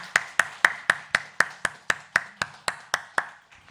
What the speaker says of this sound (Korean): 우리 함께 축복과 영광의 박수를 주님 앞에 드리겠습니다